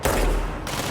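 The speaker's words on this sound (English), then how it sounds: "these are the guys with the assault rifles" Assault rifle fire from enemies in the video game Control, a dense, loud burst of rapid overlapping shots that fills the whole second, with no talking.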